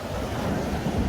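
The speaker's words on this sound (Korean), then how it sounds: "오늘도 파도가 꼴랑꼴랑해요" Choppy sea waves wash against a rocky shore where hijiki seaweed is gathered, a constant rumbling surf mixed with wind buffeting the microphone, loud and without pause.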